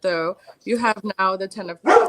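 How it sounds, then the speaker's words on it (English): A dog barks in short bursts, mixed in with a person talking close by, with a harsher bark rising near the end. "So that was just my dog."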